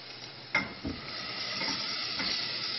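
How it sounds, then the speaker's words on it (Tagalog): Beef sizzles and fries in a rendang spice mix, with a couple of distinct stirring scrapes and clunks early on over a steady soft frying hiss, close and fairly quiet. "Then we add the beef again."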